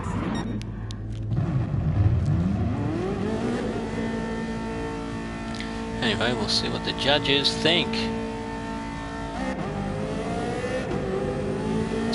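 A Ferrari F40 engine in a racing video game revs and climbs in pitch through the gears, loud and continuous, while someone talks over it.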